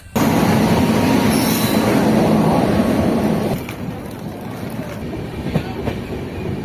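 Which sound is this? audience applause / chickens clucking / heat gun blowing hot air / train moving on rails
train moving on rails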